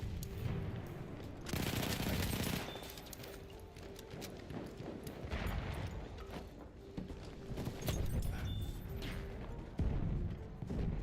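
Enemy machine gun fire in the World War I shooter Battlefield 1: sustained rapid bursts of automatic gunfire rattle through the whole stretch amid battlefield din, with heavier crashes and explosions mixed in.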